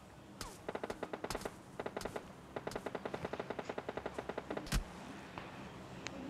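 Rapid automatic gunfire in a shooting video game, bursts of evenly spaced shots rattling for several seconds with a louder single blast near the end, fairly quiet overall, with brief voices underneath.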